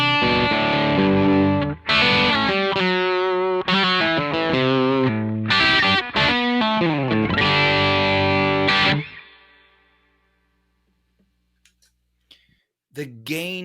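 Electric guitar driven through a Chase Bliss Brothers AM overdrive pedal, playing loud distorted chords and riffs for about nine seconds, then ringing out into near silence before a short final strum.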